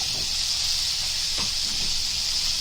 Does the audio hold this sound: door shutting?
no